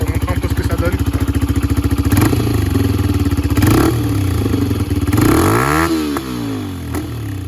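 A Benelli BN 125 motorcycle engine thumps at a rapid idle, then is blipped through two or three quick throttle revs that rise and fall, loud and close, with crackling pops as it settles back down.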